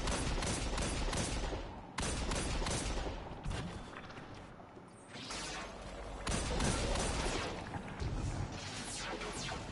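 Gunfire rattles through a solo legendary campaign shooter mission, with dense, continuous volleys of rapid shots and crashes that briefly pause and then resume at full loudness.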